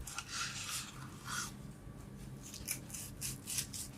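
A knife slices through a cooked beef steak in a quiet series of short, scraping strokes that come in an irregular rhythm, close and faint, with no talk over them.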